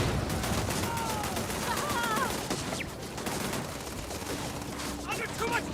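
Rapid, dense video game gunfire fills the whole stretch, with overlapping volleys and bursts over a steady, loud background of battle noise and whooshing effects.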